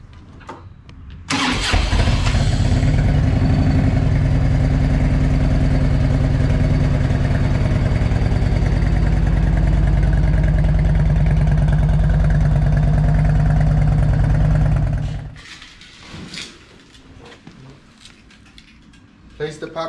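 A 1998 Harley-Davidson Road King motorcycle starts and idles loudly up close with a steady, heavy rumble for about fifteen seconds, then shuts off, leaving faint clicks and handling noises.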